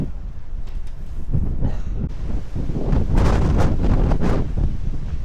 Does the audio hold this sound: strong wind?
yes